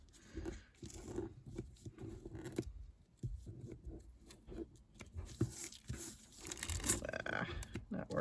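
Paper being trimmed by hand for a polar-themed ring-bound craft journal: close, crisp snips and crinkly rustles in short irregular bursts, with brief pauses between cuts.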